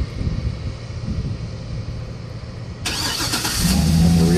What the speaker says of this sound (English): The remote start.